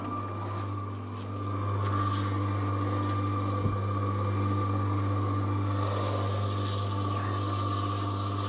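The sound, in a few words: water running into cement mix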